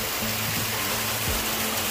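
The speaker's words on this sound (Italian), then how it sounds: "guardate che cascatella" A small waterfall in a stream in the Côtes du Rhône countryside, a steady broadband rush of falling water heard close and loud throughout, with no other sounds standing out.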